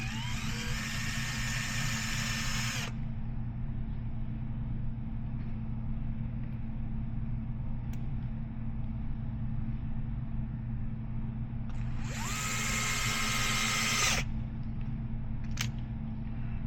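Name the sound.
power drill driving screws on a Losi Sprint 22s body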